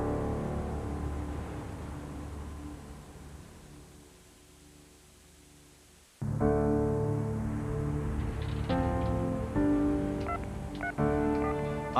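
A telephone number is dialed, with a string of short touch-tone beeps heard close after a lull of faint line hiss.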